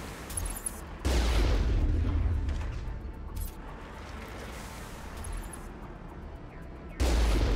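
Gunfire rings out in Mass Effect while an enemy is shot: loud bursts of booming shots at the start and end, with a heavy rumbling fusillade continuing in between and no talking.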